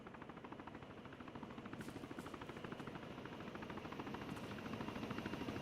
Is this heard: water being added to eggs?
no